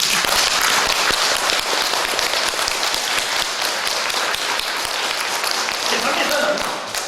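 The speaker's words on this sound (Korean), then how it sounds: "박수 한번 칩시다." Loud, dense clapping from a church congregation during a Korean sermon, sustained and even across the whole span.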